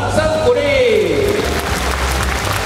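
Audience applause fills a large arena at a Taipei Arena gathering, a dense wash of clapping blended with sustained musical tones and a low hum, with a voice faintly present.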